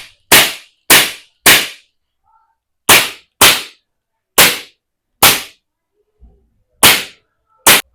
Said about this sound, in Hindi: अब हम इसे कर देंगे फायर मोड पे, तो ये CO2 पिस्टल रेडी है फायर के लिए।